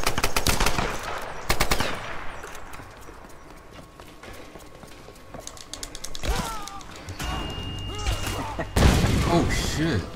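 Rapid bursts of gunfire in Tomb Raider: Definitive Edition multiplayer, with clattering shots and mechanical clicks in loud clusters, a calmer stretch in the middle, and further volleys near the end.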